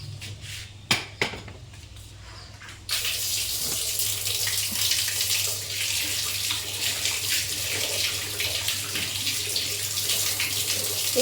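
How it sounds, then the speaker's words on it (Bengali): Tap water gushes steadily into a sink while dishes are washed, with a few clinks of pots and utensils before the flow opens fully, then continuous splashing, close and without talk. "এই কটা বাসন এবার হচ্ছে মেজে নেব একবারে"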